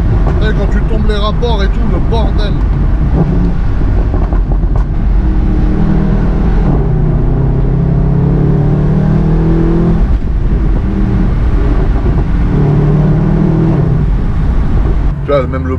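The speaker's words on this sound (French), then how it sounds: "Et quand tu tombes les rapports et tout, le bordel." Mercedes-AMG V8 driven through small villages, with a deep, loud engine drone that swells and drops through gear changes and downshifts, close and constant throughout.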